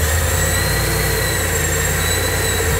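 A supercharged LS V8 engine in a work van idles steadily on its own, a loud, even drone with a constant high whine layered over the low rumble.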